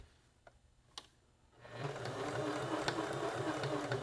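A sewing machine stitches a small fabric Christmas ornament, starting after a couple of faint clicks and then running as a steady, moderately loud continuous hum with a fine rapid rhythm for a few seconds.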